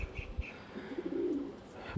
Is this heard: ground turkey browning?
no